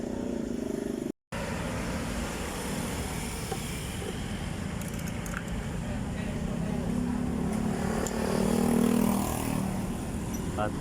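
Motorcycles and tricycles idle and rev around a motorcycle repair shop in Calamba, Laguna, engines droning steadily at mid distance with intermittent clanks, one engine swelling louder toward the end, while people talk nearby.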